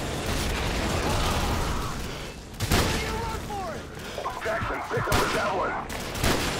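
Bursts of gunfire crackle in the Call of Duty 4 mission The Bog, loud rapid shots and sharp reports over dense game noise, with someone talking over the action.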